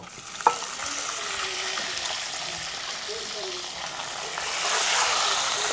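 Eggs fry and are stirred in a pan, a soft continuous sizzle with a sharp utensil tap near the start and scraping movement throughout, fairly quiet.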